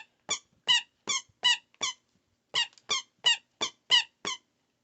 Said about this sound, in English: this one is also a higher pitched squeak